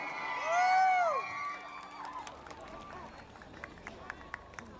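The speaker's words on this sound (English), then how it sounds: "give a big round of applause for the first runner-up" At the Orange Festival in Tamenglong, a talent-show crowd cheers the first runner-up: a loud, rising whoop leads, then a sustained crowd roar with scattered sharp claps and shouts that thins out.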